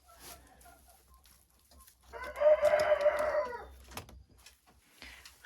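Old laying hens in a chicken coop cluck and cackle in one close, loud run lasting a couple of seconds, with quiet rustling before and after.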